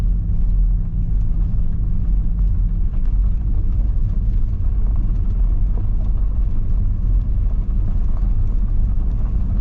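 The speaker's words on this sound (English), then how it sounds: "So it's just a nice gentle slow drive out of here." A car rolls gently and slowly along a rough, potholed forestry commission track with the windows partly down, making a loud, continuous low engine and tyre rumble with no breaks.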